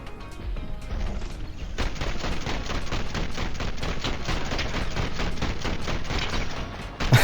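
Rapid gunfire in the video game Fortnite, a dense, continuous burst of shots beginning softly and then hammering steadily at close range for several seconds, ending in a sharp louder crack.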